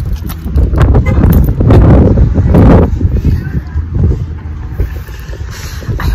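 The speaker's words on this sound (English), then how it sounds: "Ooh, it's windy." Wind gusting outdoors batters the microphone with a loud, rough rumble that peaks early and then eases to a lighter, steady blow, with some voice sounds mixed in.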